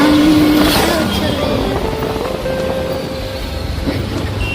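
A Maharashtra ST bus pulls ahead on a rain-dampened country road on the way to Savatsada, its engine a steady, close rumble with road and tyre noise throughout.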